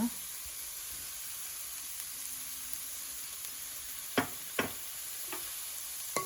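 Pork pieces fry in a pan toward golden brown for a bamboo-shoot paksiw, giving a quiet, steady sizzle with a few sharp clicks of a utensil against the pan near the end and no talking.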